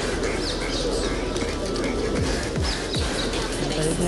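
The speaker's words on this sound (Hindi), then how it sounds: "इतने सारे कबूतर हैं" Pigeons at the Laxminath temple in Bikaner coo and flap their wings close by, a steady murmur with brief wingbeat bursts over a busy outdoor background.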